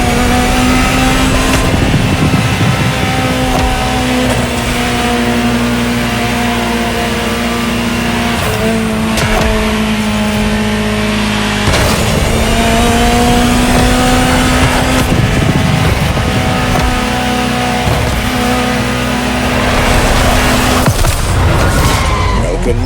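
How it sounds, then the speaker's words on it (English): Ferrari supercar engine in the racing game The Crew Motorfest, revving hard and continuously with steady high-pitched engine tone, gear changes and occasional tire squeal, loud throughout. "Just listen to the car you're driving."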